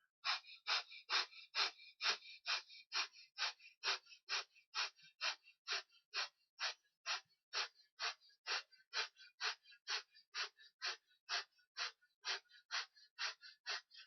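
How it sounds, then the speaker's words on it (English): Breath of fire breathing exercise, rapid forceful nasal breaths in a fast, even rhythm, close and clear, repeating about thirty times without pause. "holding your position with the strong back muscles and doing the breath of fire"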